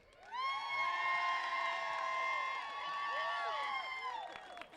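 A crowd at a casino runway-style contest cheers and whoops loudly for about four seconds, a sustained roar with high shouts and some clapping, swelling and then easing.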